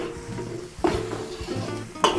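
Garlic browning in a pan for beef tripe lugaw as ginger is added, a soft steady sizzle with a couple of sharp clinks of a utensil against the pan.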